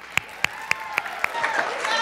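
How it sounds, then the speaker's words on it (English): An audience at John Bartram High School starts applauding: five sharp, evenly spaced claps ring out first, then the sound spreads into a broader wash of clapping as more of the crowd joins in. "let's give a big round of applause for Bartram"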